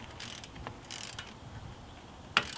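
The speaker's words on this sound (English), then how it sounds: "we know he's wrenching it with a torque wrench" A torque wrench tightens lug nuts on the wheels of a widebody Ford Focus ST, giving faint ratcheting clicks and mechanical rattles, then a sharp metallic click near the end.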